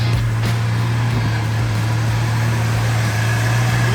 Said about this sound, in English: It does have a nice exhaust sound.